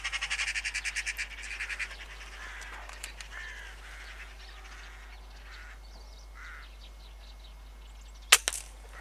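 A sharp air rifle crack with a quick following tap sounds near the end while magpies are hunted over an oat field, after earlier faint bird calls and soft outdoor background.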